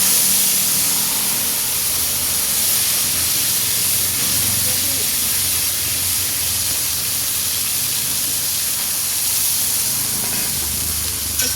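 Cumin paste, ginger paste and green chili paste sizzle steadily in hot oil for a vegetarian light curry, a broad continuous hiss with no talk over it.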